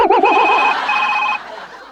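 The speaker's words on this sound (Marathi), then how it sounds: "अय्या मामांजींचा फोन आला" A phone rings loudly with a warbling electronic tone, then a steady beeping ring that cuts off partway through.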